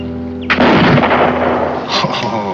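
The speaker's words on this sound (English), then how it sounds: "Oh, he can shoot." A single sharp rifle shot cracks out loud and close, fired by an old man in a 1969 Western television drama, followed by a booming decaying echo that fades over about two seconds.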